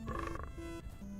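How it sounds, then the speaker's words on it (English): Toads croaking in the video game Hytale, a few short, throaty croaks close by over a steady low background hum. "Chat, those toads are here."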